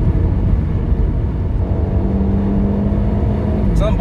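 Steady engine drone of an Audi Q3 driving on a road, a constant loud hum with faint rising tones near the end, with no speech.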